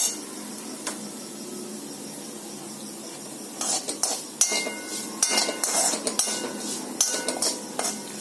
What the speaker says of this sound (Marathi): थोडासा कलर चेंज होईपर्यंत आपण याला भाजून घेणार आहोत. ब्राऊन रंगावर परतवून घेऊया.